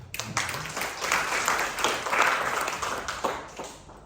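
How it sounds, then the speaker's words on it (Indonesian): Congregation at a church worship service breaks into sustained applause, a dense, loud wash of clapping that swells and fades over several seconds, with some voices mixed in. "Tepuk tangan untuk Tuhan."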